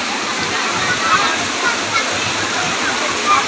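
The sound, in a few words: flowing water at a waterfall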